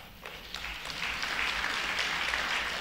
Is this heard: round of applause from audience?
yes